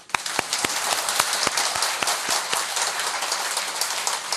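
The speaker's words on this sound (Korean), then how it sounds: "박수 한번 쳐봐" An audience at a Buddhist monk's lecture claps together on request, a dense, even patter of many hands lasting several seconds with a few sharper claps standing out near the start.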